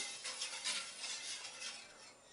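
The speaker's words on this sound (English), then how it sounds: "Now we switch to the whisk." A whisk stirring skim milk powder into milk in a bowl for homemade oven yogurt, a steady, soft scraping and clinking swish that rises and falls in quick strokes, close up and alone.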